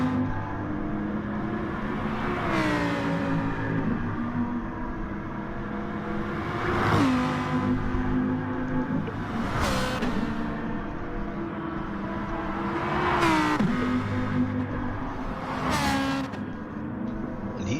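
A Lamborghini race car engine in a racing video game drones steadily, revving up and shifting gears repeatedly in a regular pattern, with about five rising pulls and sharp gear changes, loud and sustained throughout.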